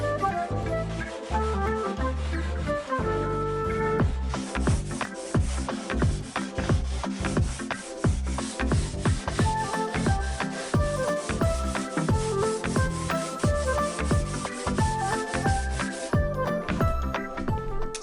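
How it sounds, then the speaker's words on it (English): A surfboard rail is sanded by hand in steady, rhythmic back-and-forth rubbing strokes, close and continuous throughout with no talking. "Just blend in the rail by hand because I don't want to power sand this"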